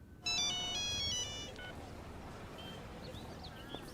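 A phone rings with an incoming call in a film scene: a short, bright electronic melody plays close and clear for about a second, then cuts off into quiet room noise with faint chirps.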